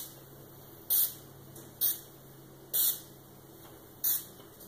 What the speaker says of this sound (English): But I'm going to spray it a little more.